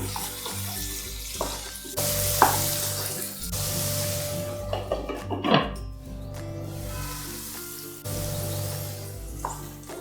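Mixed vegetables for rice rava upma (akki tari uppitu) cooking in a pan over a medium-to-low flame, with a steady broadband sizzle and hiss, a few clinks of a lid or utensil, and a brief louder splash-like burst midway.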